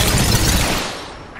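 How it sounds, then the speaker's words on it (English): Gunfire in the Apex Legends battle royale shooter, played as Wraith: a dense, loud burst of rapid shots that starts immediately and thins gradually over about a second and a half, with no talking. "Opening fire."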